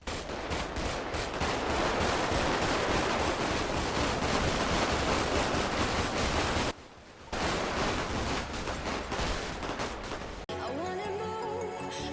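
Dense, continuous gunfire rattles in the Grand Theft Auto video game, set in Los Santos, loud and relentless with a brief lull before the shooting resumes, then a sharp shift in tone near the end.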